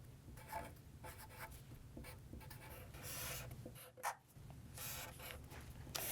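A pen draws and writes on a paper prototype, making faint, close scratchy strokes that come in short bursts with brief pauses between them. No one speaks.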